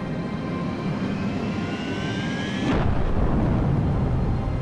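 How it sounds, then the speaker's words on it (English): Rocket second stage ignition in Halo Reach: a low droning engine hum with whining tones abruptly gives way to a deeper, louder rumbling roar that sustains to the end. "Second stage ignition confirmed."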